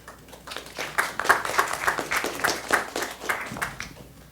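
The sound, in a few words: audience applause after a presentation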